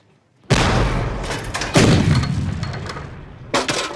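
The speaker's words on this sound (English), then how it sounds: "Cease fire! Cease firing!" Gunfire and artillery in a war film, heavy booming blasts and rumbling impacts, one big hit near the start, another a second later, then a third toward the end, loud and close with a faint voice underneath.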